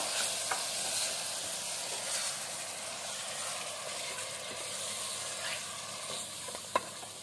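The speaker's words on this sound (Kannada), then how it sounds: "ಅದು ಮಟನ್ ಫ್ರೈ ಆಗ್ತಾ ಇರಲಿ" Half a kilo of mutton fries in a pan for country-style mutton biryani, a constant close sizzle with soft stirring scrapes and one sharp knock near the end.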